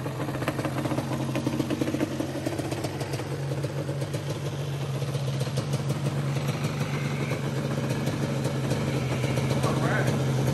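A restored Yamaha 421 Banshee two-stroke motorcycle runs steadily close by, its buzzing engine drone constant and loud throughout, with faint rattles riding on top.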